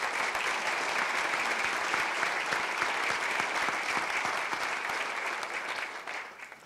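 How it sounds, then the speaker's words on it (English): An audience at an annual meeting gives a round of applause: dense, sustained clapping that holds steady, then begins to thin out near the end. "So give him and our board another round of applause, please."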